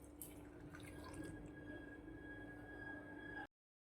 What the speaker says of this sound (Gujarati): આપણે તેમાં અડધી વાટકી જેટલું પાણી પણ આપણે તેમાં ઉમેરી દેવાનું છે